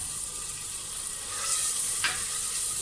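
Boneless chicken frying in a pan with turmeric, a continuous soft sizzle with a brief stirring scrape midway, fairly quiet and without voices.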